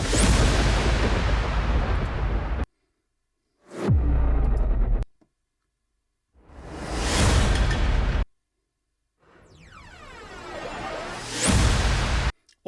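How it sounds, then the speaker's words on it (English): Cinematic trailer sound effects play one after another: heavy booms, a sweeping whoosh and rumbling hits, each loud burst separated by short silences, with no talking. "am thinking I'm going to need some movie trailer effects and movie trailer music."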